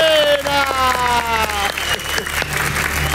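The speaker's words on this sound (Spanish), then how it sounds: "Un aplauso para Víctor Hugo Dávila." A television studio audience applauds contestants on a Peruvian variety show, steady clapping filling the room with a sustained musical tone and jingle sounding over it.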